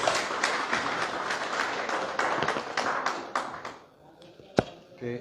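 Church congregation applauding their pastor during a Spanish-language service, a dense wash of clapping that runs steadily for several seconds before thinning into a few scattered claps and a sharp thump.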